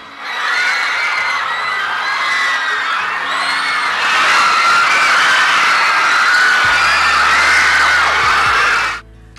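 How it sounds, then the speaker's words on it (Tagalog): A packed crowd of fans at a mall cinema in Megamall screams and cheers without pause, shrill high-pitched shrieks and whoops merging into a loud sustained roar that swells midway and cuts off abruptly at the end. "dumoble ang lakas ng hiyawan"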